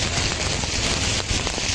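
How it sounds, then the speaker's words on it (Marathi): Heavy rain pours down in a dense, constant hiss with crackling drops, loud and close throughout, no voices. "आज पाऊस खूप आहे यार, बघा ना किती पाऊस पडतोय."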